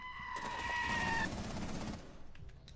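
Rapid automatic gunfire from the Rainbow Six Siege video game, a dense burst of shots lasting about a second and a half, followed by quieter scattered game sounds with no talk.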